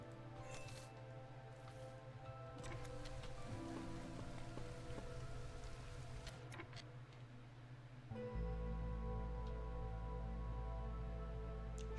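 Light drizzle in the video game Against the Storm, a steady soft patter of rain running unbroken under layered game ambience and music, with a deeper low hum swelling in near the end.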